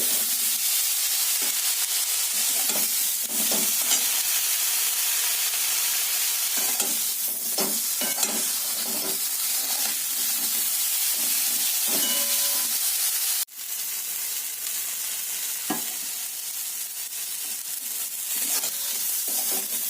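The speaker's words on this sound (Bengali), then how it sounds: "বেগুনগুলো লাল লাল করে ভেজে" Eggplant sizzles and fries in a pan, a continuous hot crackle with occasional scraping stirs, close and steady for the whole stretch.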